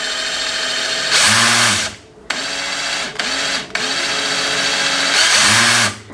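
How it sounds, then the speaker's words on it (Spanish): A Black+Decker Matrix orbital sander's motor whirs loudly in short bursts, switching on and off several times with brief gaps of quiet between runs. "La lijadora es orbital."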